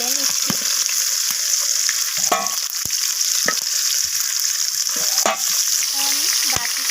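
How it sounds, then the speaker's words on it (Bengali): Bhetki fish bones fry in hot oil with a steady, loud hiss and crackle. Sharp clicks from stirring and moving the bones break through the sizzle. "আমি বাকি কাঁটাগুলোকে তেলের মধ্যে দিয়ে দিলাম। তো আমি একইভাবে এগুলোকেও ভেজে নেব।"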